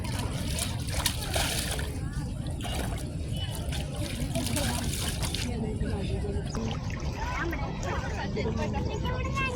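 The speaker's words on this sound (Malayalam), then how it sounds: "നല്ല രസല്ലേ വെള്ളം ഇങ്ങനെ ഒഴുകി പോണത് കാണാൻ" Stream water flows and splashes steadily throughout, a continuous rushing trickle heard close by, with a murmur of voices underneath during a family outing.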